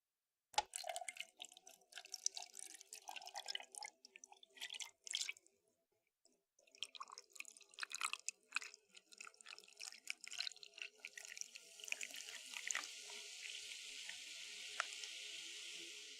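Liquid pours and drips in quiet, scattered splashes and trickles, with a faint hiss building into a steadier pour toward the end. No one speaks.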